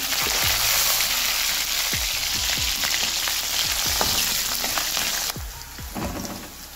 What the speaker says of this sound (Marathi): तर मी आता तिथं तेल गरम करून घेतले, त्यात टाकून घेणार आहे जिरं, लसूण, त्यानंतर हिरवी मिरची